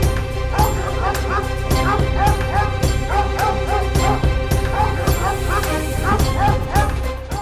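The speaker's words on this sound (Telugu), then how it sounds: "ఏందిరా కుక్క అరుస్తుంది?" A dog barks and yips repeatedly in a domestic setting, loud and close, over a steady musical backing with voices talking intermittently.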